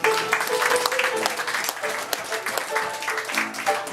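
Audience applause greets a singer at a third-anniversary evening, dense steady clapping from a crowd filling the room, with some voices mixed in.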